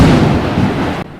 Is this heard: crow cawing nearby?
no